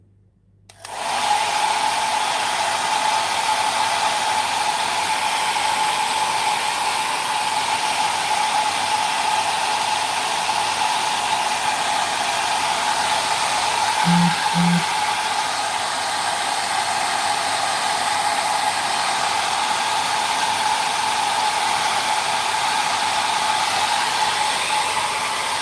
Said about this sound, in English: Now I'm going to blast it with the blow dryer, hair dryer